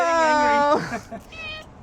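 A cat lets out a loud, close, drawn-out meow, followed by a shorter fainter one, while a person speaks briefly.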